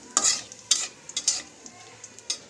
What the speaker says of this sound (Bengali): কড়াই তেলটা প্রথমে গরম করে নিয়েছি এবার সামান্য একটু জিরা দিব তারপরে দিব তেজপাতা